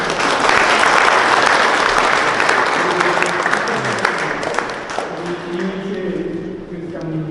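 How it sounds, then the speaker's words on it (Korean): An audience at a diary exhibition and declaration ceremony gives the honored guests loud, full applause that gradually thins out, with a voice starting to speak as the clapping fades. "여러분을 축하하러 오신 모든 분에게 우리 한번 박수 부릴까요?"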